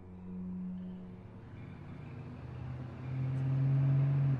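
An ice cream truck speeds closer, a low engine drone rising in pitch and loudness as it nears, with a steady rumbling tone that swells toward the end.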